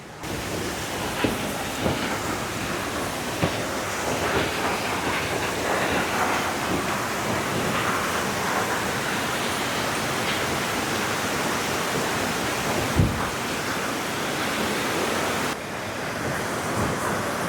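A waterfall in Nuwara Eliya, Sri Lanka, pours from high above as a continuous, loud broadband rush that stays steady throughout, with no voices over the roar.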